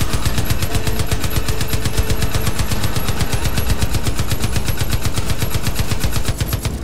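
Continuous automatic fire from a heavy weapon in Far Cry 5's Vietnam DLC, a loud, relentless rapid-fire pounding at close range that holds steady for several seconds before easing off at the very end.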